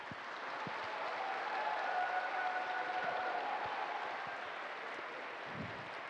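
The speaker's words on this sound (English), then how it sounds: "Please let us give a big round of applause to welcome each other." Conference audience applauding at a world peace conference in Europe: sustained, even clapping from a large crowd, somewhat distant and moderate in level, swelling slightly in the middle and continuing without pause.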